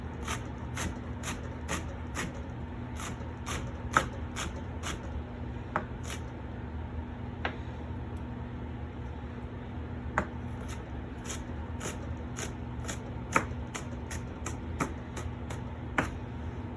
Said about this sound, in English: Notice I'm cutting them into small little rounds.